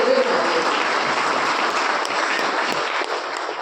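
Sustained applause from an audience at an award ceremony honouring Advocate General Milind Sathe with the Aparant Ratna award, steady dense clapping filling the whole stretch at even loudness.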